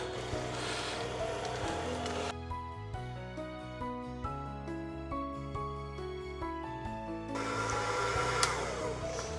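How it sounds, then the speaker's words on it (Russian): An electric mixer whips cottage cheese cream with heavy cream at low speed, a steady close motor whir with shifting tonal hum that holds for the whole stretch. "И начинаю взбивать с маленьких оборотов."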